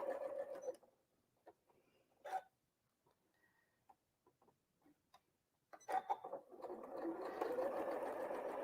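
Home sewing machine stitching small quilt scraps together, with short whirring runs at the start and near the end, separated by quiet ticks and handling clicks, fairly close.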